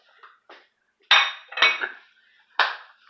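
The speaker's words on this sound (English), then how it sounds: "Now, let me put this dish away." A dish is put away in a kitchen with a few faint scrapes followed by three loud, close ceramic and metal clinks and clatters, spaced irregularly.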